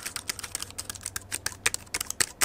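Rapid, soft clicking of a GPD Pocket mini laptop's keys being typed on, an irregular patter of light taps up close with no talking.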